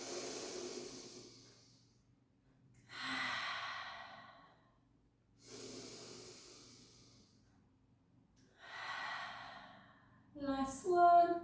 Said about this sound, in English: Take a gorgeous breath in.